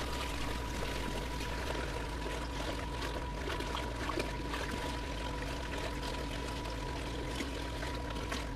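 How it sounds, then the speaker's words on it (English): Sand is siphoned out of a 300 gallon reef aquarium tank, with a continuous gurgling, pouring flow of water and sand through the hose, steady and close with a faint hum beneath. "we've been siphoning that sand in there"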